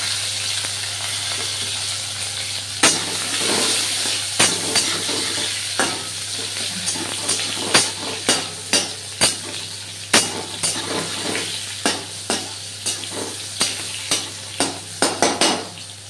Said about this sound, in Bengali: টমেটোটা নাড়াচাড়া হয়ে গেছে।